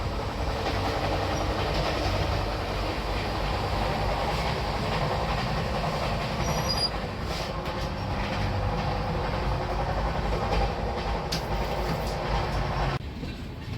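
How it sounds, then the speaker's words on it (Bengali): The Howrah-Tirupati Humsafar Express runs at speed, a steady, loud rumble and rattle of carriages heard from inside the train with a continuous clatter that persists throughout. "ট্রেন ছুটে চলেছে দ্রুত গতিতে"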